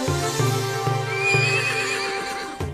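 A cartoon horse whinnies loudly with a long, wavering neigh over a steady, rhythmic clip-clop of hooves, the hoofbeats continuing throughout.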